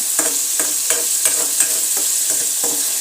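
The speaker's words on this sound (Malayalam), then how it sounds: "തക്കാളി ഉള്ളി നല്ലോണം വഴന്നു തന്നെയാണ് അതിൽ തക്കാളിയും കൂടെ കിടന്നൊന്ന് വഴന്ന് വരട്ടെ" Chopped tomato and onion sauté in a pan, a steady bright sizzle broken by regular scraping stirs about every half second, close and fairly loud with no talking.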